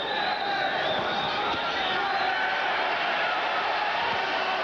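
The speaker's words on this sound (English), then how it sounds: "The crowd got excited" Boxing arena crowd getting excited during the Bobby Czyz vs Jim MacDonald fight, a steady, dense roar of cheering voices that stays loud and even throughout.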